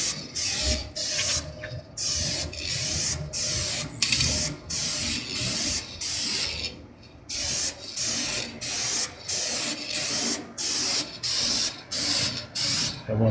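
Spray gun laying Clearjet A2000 gloss clear coat onto a metal spray-out sheet held by magnets, a steady loud hissing in repeated bursts with short gaps between overlapping strokes.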